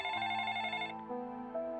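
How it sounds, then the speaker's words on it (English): A telephone rings with a bright electronic tone in two steady bursts, the second pitched lower, heard alone and clearly. "He woke up to the sound of the telephone ringing."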